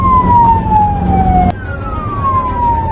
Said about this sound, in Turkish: arkada ambulans sirenleri açmış. Yol istiyor ya.